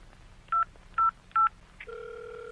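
Telephone keypad dialing, three short electronic tones in even succession followed by a steady ringback tone, clear and close with no talking.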